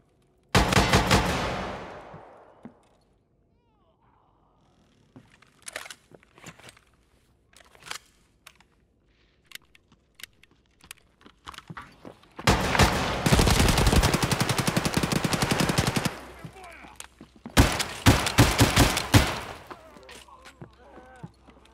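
Automatic AA-12 shotgun fire in the shooter game Escape from Tarkov, heard as a sharp opening blast and later two long, loud sustained bursts, with scattered clicks and thuds between them and no talk.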